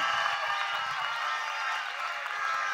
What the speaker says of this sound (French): Applaudissez très très très fort pour le pasteur Igor.